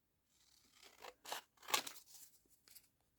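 Scissors snip through fabric and paper in a few short, close cutting strokes with brief crisp crunches and quiet gaps between them.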